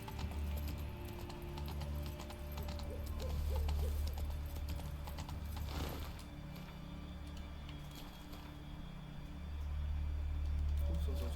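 Hooves of Geralt's horse Roach clop steadily at a walking pace in The Witcher 3: Wild Hunt, close and fairly loud over a low ambient drone, with a brief muffled voice partway through.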